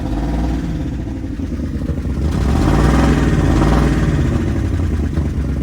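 A car engine at a Copart auction yard idles roughly, then revs up for a couple of seconds in a loud, rising swell before dropping back to a clattery idle, heard close with no talk.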